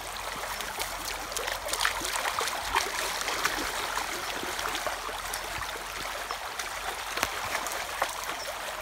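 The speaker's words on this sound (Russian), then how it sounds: "Звуки приятной воды." A shady river flows in a steady, close trickle and babble, with a little splashing and no talking.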